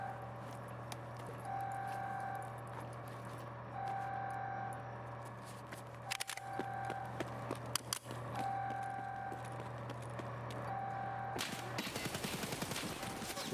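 Faint, distant bursts of AK rifle fire crackle in Escape from Tarkov, a few scattered volleys over a steady hum, followed by closer, sharper shots near the end.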